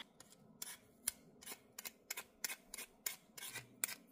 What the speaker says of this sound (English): I'm going to start by peeling the potato.